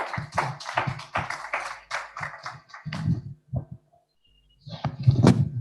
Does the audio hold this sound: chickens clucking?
no